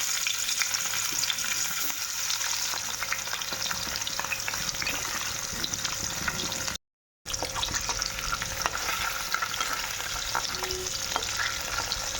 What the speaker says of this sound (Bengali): এইভাবে মাছগুলো কিন্তু ভেজে নেব হালকা করে